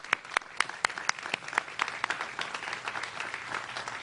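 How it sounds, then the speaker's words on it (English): An audience at a state fair ribbon-cutting ceremony applauds a national anthem singer, with sharp individual claps at the start that thicken into steady, moderately loud clapping from a crowd. "Can we give her another round of applause?"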